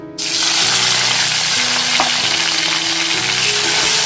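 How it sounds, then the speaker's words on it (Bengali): Capsicum pieces fry in oil and ghee in a pan for a vegetarian capsicum paneer dish, giving a loud, steady sizzle that runs unbroken from start to finish. "এগুলো হালকা ফ্রাই করে নেবো"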